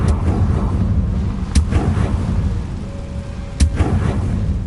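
A Confringo fire spell detonates in Hogwarts Legacy, giving two sharp blasts over a steady, dense rumble of game ambience.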